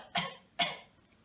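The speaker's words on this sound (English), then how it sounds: "you want to breathe in deeply through your nose and then forcefully cough numerous times." Two forceful coughs in quick succession, sharp and close, each with a short breathy tail, separated by about half a second and followed by quiet.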